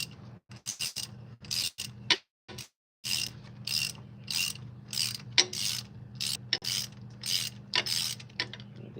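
A ratchet breaks free the head bolts on a Chevy 305 engine from an El Camino, giving a series of close, rapid clicking bursts separated by short pauses, with a low steady hum underneath.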